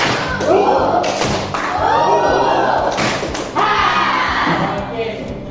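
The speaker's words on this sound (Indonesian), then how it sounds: "Tepuk gorila." A group of adults at an academic supervision coaching session performs the "gorilla clap," a loud rhythmic group clapping with thumping, chest-beat-like hits and crowd voices, repeated in bursts.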